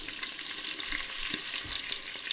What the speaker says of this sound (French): je vais tout faire cuire ça une quinzaine de minutes dans le cookéo